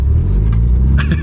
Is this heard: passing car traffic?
yes